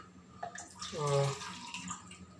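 Water poured into a mug to measure it for cooking rice, a brief close splashing gurgle that swells and fades, with faint background noise around it.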